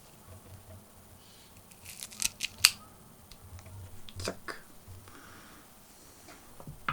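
A Vega Fina Year of the Ox cigar has its end snipped with a cutter, giving a few crisp, close clicks and snaps in quick succession against a quiet room, followed by faint rustling.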